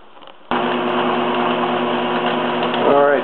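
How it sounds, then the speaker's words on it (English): A wood lathe starts up abruptly and runs steadily while a cove is cut on a turret for an 18th-century turret-top tea table, giving a loud continuous whir with a rising tone shift near the end. "So the next thing to do is to cut the cove that goes from here down"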